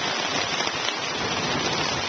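Heavy rain falls steadily during a canoe trip with a thunderstorm nearby, making a dense, continuous hiss close by with no voices.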